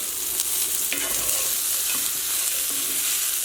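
Chicken meatballs with red pepper flakes sizzle loudly in a hot pan while a spoon stirs them, giving a few scraping strokes over the constant close hiss, with no talk.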